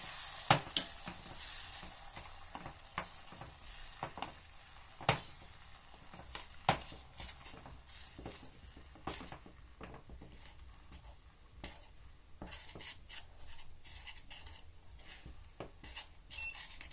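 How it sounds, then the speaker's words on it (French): Butter and chocolate melting together in a bowl are stirred with a utensil, giving soft scraping and light clinks against the bowl, quiet and steady with a few sharper taps. "Vous remuez un peu."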